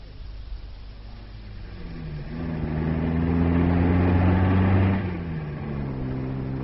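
A car drives past as a radio drama sound effect: a steady engine hum rises to a loud, near peak in the middle and then falls away, with no voices.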